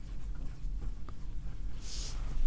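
Korean characters being written by hand, soft faint scratching strokes of pen on paper in short bursts over a low background hum, with no voices.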